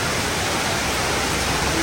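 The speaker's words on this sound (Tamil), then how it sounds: "சரியான மழை." Heavy rain pours while water rushes down a street, a loud, dense, unbroken roar of broadband noise filling the whole scene without talking.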